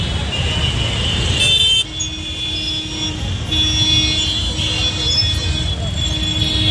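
Road traffic moves steadily through Ganesh Chowk in Gorakhpur, engines rumbling and horns tooting under continuous talk from nearby voices.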